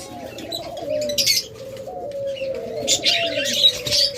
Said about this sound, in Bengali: আমাদের কাছে রয়েছে অসংখ্য পরিমাণ বাজরিকার পাখি